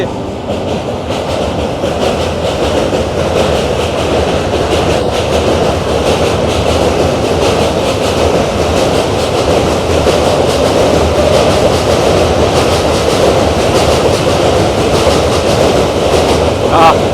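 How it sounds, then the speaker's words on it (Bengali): A train crosses overhead on the Arambagh railway bridge above a river, a loud, continuous rumble and rhythmic wheel clatter heard from beneath the span, sustained throughout. "ওই যে ওপর দিয়ে ট্রেন যাচ্ছে।"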